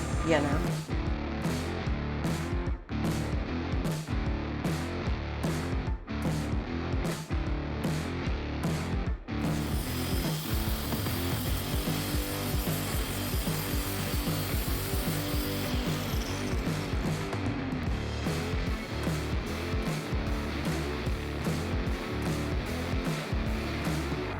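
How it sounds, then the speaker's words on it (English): Power tool, likely a grinder, cutting metal and throwing sparks during a car quarter panel replacement, running as a loud, steady rasp under the whole clip with rhythmic pulses in the first part; a voice talks over it. "we're gonna be shooting sparks here in a little bit. I'm gonna start cutting that metal"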